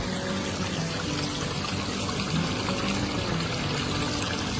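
Water trickles steadily over a small garden waterfall into a little stream edged with moss, a continuous close babbling wash with no talking.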